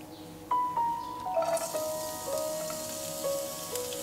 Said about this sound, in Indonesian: Lanjut aku akan masukkan bawang putih dan bawang bombay.